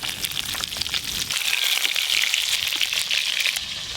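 Fish pieces frying in hot oil for a home-style rui fish kalia, a steady close crackle and sizzle of spitting oil running throughout with no talk.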